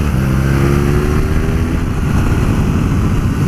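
BMW R nineT Pure motorcycle, a 2018 model with a roughly 113-horsepower engine, accelerating hard along a faster stretch of road, with a loud, continuous engine note whose rising harmonics climb steadily through the run, overlaid with strong wind rush.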